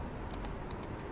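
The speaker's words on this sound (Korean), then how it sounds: "Shift 눌러주세요" Keys on a computer keyboard are pressed, including the Shift key, giving four or five faint, quick clicks in close succession over a quiet room hiss.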